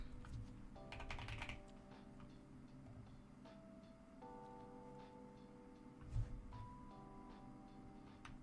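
Keystrokes on a new computer keyboard being tested clatter in steady, uneven bursts at close range, with a faint tonal background hum underneath and no talking.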